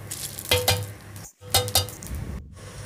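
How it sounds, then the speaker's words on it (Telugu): Cumin seeds dry-roasted without oil in a pan over a low flame: clustered bursts of scraping stirring strokes with light metallic clinks, close and separated by brief pauses, with no talking. "జీలకర్ర కూడా వేసుకొని మనం వేయించుకొని మనం మిక్సీ కప్పులో వేసుకుందాం"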